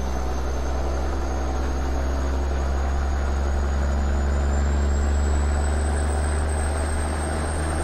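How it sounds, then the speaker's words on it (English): A Caterpillar diesel engine in a Classic XL truck runs in American Truck Simulator. It gives a steady, continuous low drone under load with a faint rising whine, and there is no talking. "We're putting this cat engine to work today."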